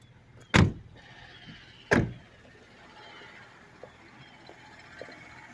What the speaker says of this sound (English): Let's close the doors.